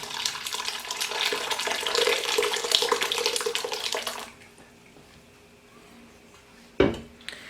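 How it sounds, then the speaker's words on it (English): Homemade rhubarb and Saskatoon berry juice pours into a bowl with a steady splashing gush for about four seconds before stopping, followed by a single sharp clink. "what I want to do in this bowl is pour my liquid into it and catch all the rhubarb and Saskatoons"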